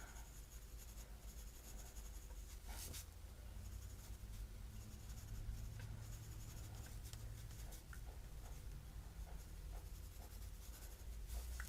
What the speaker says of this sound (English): I think I'm going to go with the 4B pencil in this area here.